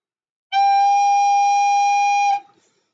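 One sustained whistle-like tone from a wind instrument tube with finger holes, held steady for about two seconds with bright overtones, then cut off, alone in silence.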